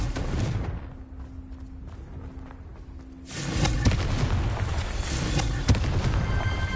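Fire-blast spells are cast in the wizarding game Hogwarts Legacy, loud booming impacts and explosive crackles that burst in after a quieter stretch, with sharp repeated blasts over a rumbling bed.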